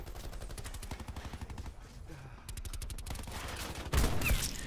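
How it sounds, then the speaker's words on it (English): Rapid automatic gunfire in the Black Ops 4 video game multiplayer match, fast repeated bursts of shots with a short pause, then a heavier louder burst near the end, moderately distant. "I'm getting shot in the back."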